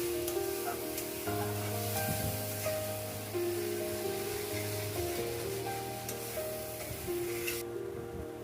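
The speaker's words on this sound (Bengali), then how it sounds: "আমি নেড়ে নেব মশলাটা যাতে পুড়ে না যায়।" Spice paste frying in a pan and being stirred, cooked down before taro greens go in for a mung dal and taro leaf dish; a steady, soft sizzle runs throughout beneath continuous background music.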